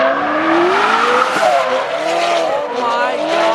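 McLaren 720S drifting at high speed, a loud engine whine sweeping up and down beneath screeching, skidding tires, close and continuous, with people talking excitedly over it.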